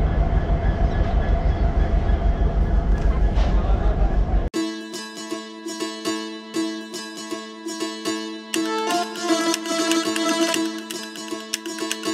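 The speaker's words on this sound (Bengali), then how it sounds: "ঠিক 7:15 আমাদের ট্রেন কিন্তু ছেড়ে দিল।" A DEMU special train pulling out of Haldibari station, a loud low diesel rumble heard from on board that gives way to a rhythmic clatter of wheels over rail joints, with engine tones holding steady.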